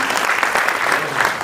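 An audience at a poetry gathering applauds in steady, dense clapping, loud and close throughout, with no pauses.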